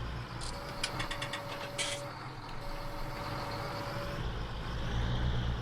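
Tractor engine in the Farming Simulator game running steadily and loud throughout, with a sustained droning rumble, a brief high reversing-style beeping near the start and a thin tonal whine across the middle.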